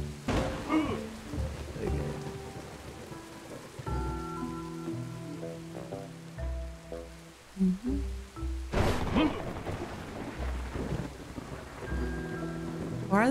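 A thunderstorm in the video game Snufkin: Melody of Moominvalley, with rain patter and sharp thunder cracks over layered game music and tones, fairly loud and continuous.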